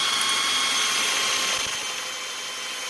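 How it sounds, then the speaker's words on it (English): A power drill with a 1/4-inch bit boring into wood, a loud, steady high whine that holds close and continuous before easing off slightly toward the end. "you drill it here with a 1/4-inch drill bit"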